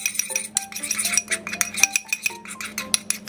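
A spoon stirs chili powder into a paste for cucumber kimchi, scraping and clinking against a bowl in quick irregular strokes that ring out close and fairly loud, with no talking.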